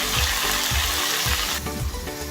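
Mustard seeds, two dried red chillies and curry leaves crackle and sizzle in hot oil for a Kerala banana-flower stir-fry, a steady close, loud spitting hiss with bursts of popping.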